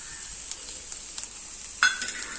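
Egg goes into a pan of frying anchovy fish roast, with a steady thin sizzle throughout and a brief sharper hiss and splash as it lands near the end; no voices.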